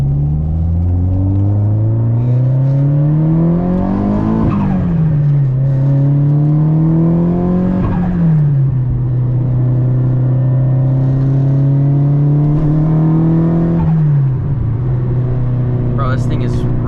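Nissan S15 with an SR20 engine on a drive, revving repeatedly in low boost: a loud, steady engine drone rising in pitch over several seconds, dropping and climbing again three times with gear changes, heard from inside the car.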